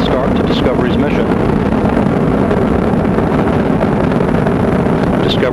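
Loud, steady roar of Space Shuttle Discovery's three liquid-fuel main engines during launch fills the whole stretch, a dense broadband rumble with no breaks.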